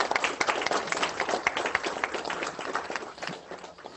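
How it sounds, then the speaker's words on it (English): Classroom applause for a teacher, Miss Williams, at the end of a school career day lesson: dense, steady clapping from a group of children lasting throughout, fairly close and moderately loud. "Let's give Miss Williams a big round of applause"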